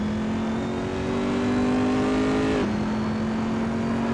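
A Corvette C7R race car engine in Assetto Corsa drones loudly at a steady pitch, then drops sharply in tone as the car brakes and downshifts before settling into a steady hum.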